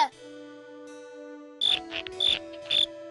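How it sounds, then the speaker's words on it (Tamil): A grasshopper in a children's cartoon gives three short, bright, rhythmic chirps over a sustained musical background, close and clear. "இந்த மாதிரி ஒரு வினோதமான வெட்டுக்கிளிய நான் பார்த்ததே இல்ல."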